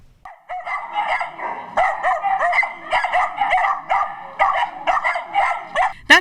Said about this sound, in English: That's probably the sound of an anxious dog looking for a new home